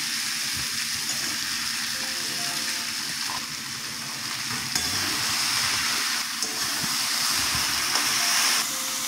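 Ridge gourd and potato fry in mustard paste that was sautéed first, giving a continuous, close sizzle with soft stirring scrapes throughout and no talking.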